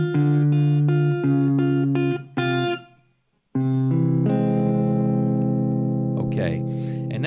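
A guitar plays a blues tag ending: a choppy rhythmic phrase of short chords, a brief pause in silence, then a long sustained chord with a slide at the end.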